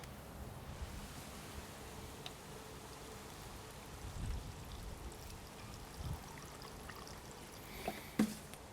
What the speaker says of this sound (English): all of this I just place into this blender, and then I add water